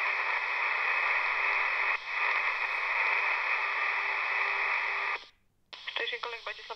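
A garbled airband radio call picked up on a Quansheng UV-K5 handheld, mostly a harsh buzzing hiss that cuts out abruptly before a short, choppy burst of voice.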